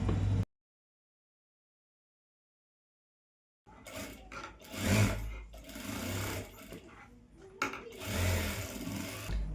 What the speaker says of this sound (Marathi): त्याच्यावरती किनार टीप मारून घेऊया आणि पूर्ण ब्लाऊजला देखील मी शिलाई टीप मारून घेते